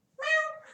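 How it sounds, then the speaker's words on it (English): A pet cat gives one clear, fairly close meow that lasts under a second and trails off softly, with no talking over it. "You guys heard her meow, though."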